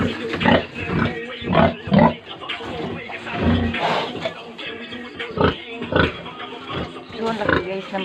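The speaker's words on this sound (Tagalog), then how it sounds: "laki guys ng baboy ko" A heavily pregnant, overdue sow grunts and snorts repeatedly at close range, in low rough bursts with short pauses between them.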